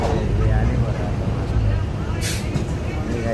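A car sets off with a steady, fairly loud engine rumble under people talking, and a short burst of hiss partway through.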